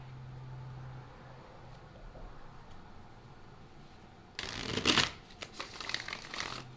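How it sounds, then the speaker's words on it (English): Tarot cards being shuffled by hand, a brief burst of crisp riffling and flapping rising out of quiet room tone, close and fairly loud, followed by a few smaller shuffles. "Let's get some tarot cards in the mix."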